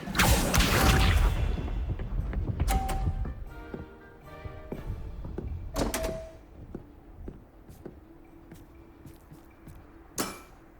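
A summoning spell is cast in Hogwarts Legacy: a loud whooshing burst up front, then scattered clinks, knocks and mechanical thuds, with a sharp final impact near the end as things settle.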